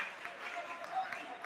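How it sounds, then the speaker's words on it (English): Faint applause from a school spring concert audience, a brief patter of clapping heard from a distance, mixed with a voice speaking over it. "Give him a round of applause."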